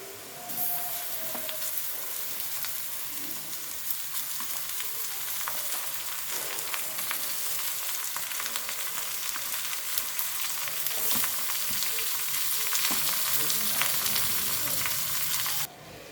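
Vinegar-and-salt marinated chicken frying in a pan for a chicken roll filling, giving a steady, bright sizzle with occasional crackles and stirring, close up and without talk.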